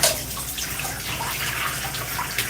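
Steady running water from a tap or shower rinses a person's hair during a wash-and-go styling session, a continuous close hiss with a small splash near the end.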